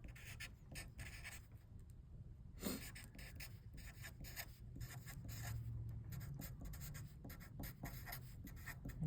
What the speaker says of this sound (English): I'm going to write them out.